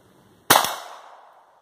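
Browning Buckmark .22 LR pistol fired once over a chronograph outdoors, a single sharp crack after a short silence with a brief ringing decay.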